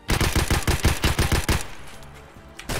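SKS rifle fire in Escape From Tarkov comes as a rapid string of about ten loud, close shots in quick rhythm, then cuts off into quieter rustling and clicking.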